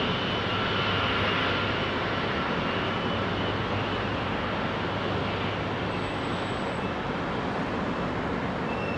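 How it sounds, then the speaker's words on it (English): Jet airliner engines spool up on a frosty day during a runway 27R departure at London Heathrow, a loud, steady broadband roar that holds close and constant throughout, with no talking. "Now you'll see what I'm talking about with the difference in engine spool up note"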